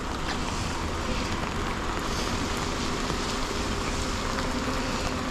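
Steady rain falling outdoors during a Gordon Food Service truck delivery on a rainy day, a dense continuous hiss that fills the whole stretch with no talking.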